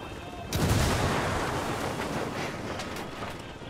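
A grenade blast among gunfire in the game Ghost Recon Wildlands, a sudden loud boom followed by a rumbling, roaring burst of noise that slowly fades.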